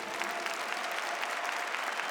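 Steady applause fills a church during a New Year's Mass homily as the congregation claps together, an even, continuous patter of many hands heard at a moderate distance.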